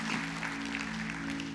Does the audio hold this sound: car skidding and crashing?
no